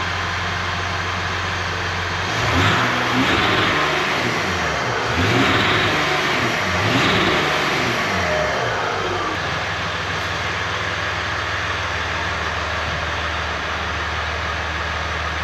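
A Ram EcoDiesel truck with delete pipes, EGR delete and a tune, exhaust rumbling loudly and steadily close by, with a couple of swelling revs in the middle before settling back to a constant idle drone.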